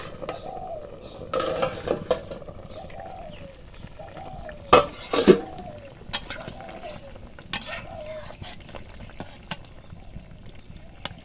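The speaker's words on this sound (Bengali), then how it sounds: "সাত মিনিট পরে আমি ঢাকাটা খুলছি" A lid comes off a pot of fish curry with papaya pieces boiling inside, giving a couple of sharp metallic clanks close by, then lighter clinks and faint bubbling, with no voice.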